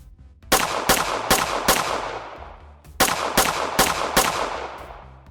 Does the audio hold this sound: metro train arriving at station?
no